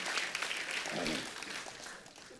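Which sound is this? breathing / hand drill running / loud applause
loud applause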